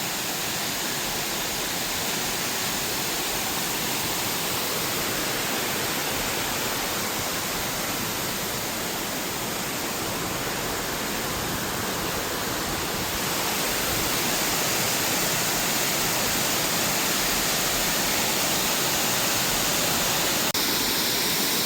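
Steady, full-band rush of a waterfall beside Narrows Lookout on Obi Obi Creek, flowing strongly rather than trickling, close and loud without a break for the whole stretch, no voices.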